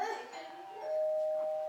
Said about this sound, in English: looking at the doorbell being rung